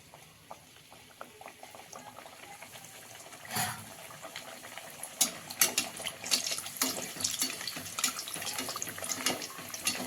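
Puri frying in hot oil gives a bubbling, crackling sizzle that starts soft and grows busier and louder after the first few seconds, with scattered pops and no talking.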